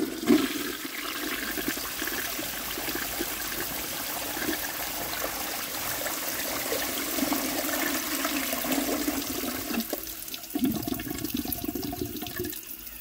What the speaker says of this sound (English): Alrighty, here's the flush.